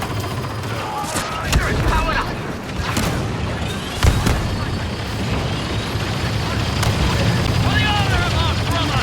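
A grenade goes off amid constant blaster fire and battle noise in the Star Wars Battlefront II game on Geonosis, with sharp booms standing out over the dense loud din.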